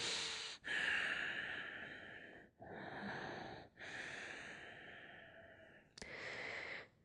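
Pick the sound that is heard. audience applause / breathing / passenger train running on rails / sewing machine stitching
breathing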